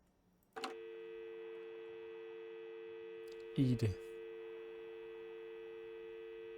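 A telephone line tone plays while a call is being placed, starting abruptly and holding steady and continuous for about six seconds, with a single short spoken word cutting in partway through.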